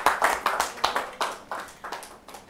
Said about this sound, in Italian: fare un applauso